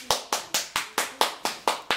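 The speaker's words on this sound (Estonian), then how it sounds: "Aplaus." Sharp, evenly spaced hand claps ring out alone, about eight crisp strokes in two seconds, each with a short decaying tail, like a small rhythmic round of applause.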